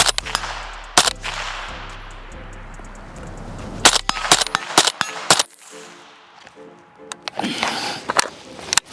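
Suppressed shots from a PSA short-barreled rifle fitted with an AB suppressor, several sharp cracks spaced irregularly across outdoor ambience, fairly close, with brief muffled handling noise between them.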